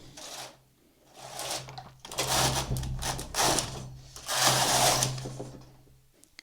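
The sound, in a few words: knitting machine knitting two rows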